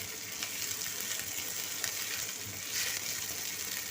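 Finely chopped onions frying in a pan with ginger-garlic paste, cinnamon and black cardamom, a steady, close hiss of sizzling oil running without a break.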